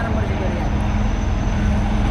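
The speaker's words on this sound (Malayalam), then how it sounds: "അപ്പോൾ പോലീസിൻ്റെ ഭാഗത്ത് ഹെലികോപ്റ്റർ വന്ന് റെസ്ക്യൂ ചെയ്യാനുള്ള ശ്രമം നടക്കുകയാണ്" A police rescue helicopter flies overhead during riots in Nepal, making a steady, loud, continuous engine drone with a low hum that holds evenly throughout.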